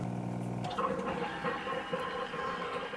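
A MOMCOZY bottle washer runs with its water tank empty, giving a steady mechanical whir and drone with a faint rattle, close by and continuous after a brief tonal beep at the start.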